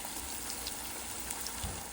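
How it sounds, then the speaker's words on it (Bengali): Faint, steady sizzle of battered cauliflower manchurian pieces frying in hot oil, a low continuous crackle close by with no talking. "কয়েকটা ভেজে তুলেছি, আর বাকিগুলো এই যে ভাজছি।"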